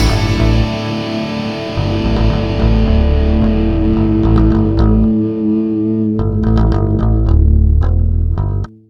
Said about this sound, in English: the electric guitar holds out this sus4 chord that sounds like this